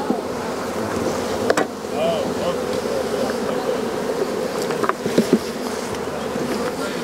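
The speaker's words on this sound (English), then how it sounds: "I'm going to shake all the bees off of all these frames into the bottom" Honeybees buzz loudly and continuously as they are shaken off hive frames, forming a dense close swarm drone with a few clunks and knocks from the frames.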